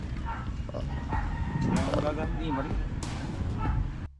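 A rooster crows once in the background, mid-distance, while people chat casually nearby.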